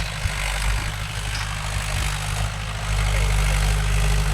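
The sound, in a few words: Mahindra 575 DI tractor engine idling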